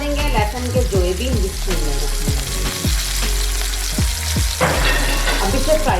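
Cut tomatoes and garlic cloves fry in a pan for a tomato chutney, a loud, close sizzle broken by repeated clattering thumps of stirring or shifting the pieces.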